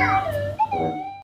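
A cat raised around dogs imitates a dog's bark, giving a short, wavering, howl-like whine and yip that lasts just over a second, heard alone and close up.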